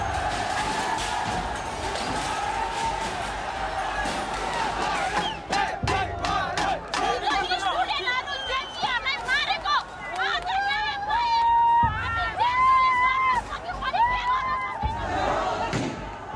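A crowd storms the federal parliament building during Nepal's Gen Z uprising, with loud massed shouting, chanting and yelling, scattered bangs and individual cries that swell in waves throughout.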